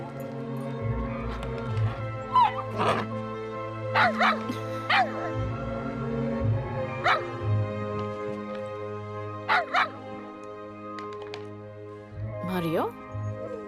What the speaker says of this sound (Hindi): ऐसे देखकर क्यों भौंक रहे हो तुम?